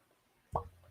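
A single soft hollow pop, like a cork pulled from a bottle, followed by a brief low rumble.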